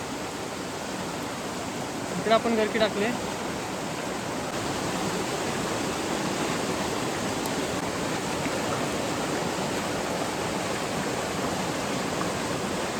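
A swollen stream runs full and loud during stormy, rainy weather, its steady dense rush unbroken throughout, while someone speaks briefly early on over the flow.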